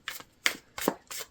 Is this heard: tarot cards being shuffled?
yes